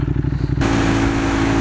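A motorcycle engine on a test ride throbs with a pulsing, loud note, then swells into a rushing roar with heavy wind noise as it accelerates.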